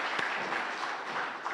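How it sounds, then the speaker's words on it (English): Applause from an event audience after thanking a session leader, a steady wash of many hands clapping throughout, moderately loud with no talk. "Could we have a round of applause for Lois?"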